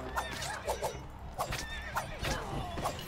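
Horse neighing in the Devil Slayer Raksasi video game, several short whinnies repeating through the clip over game sounds, loud and close.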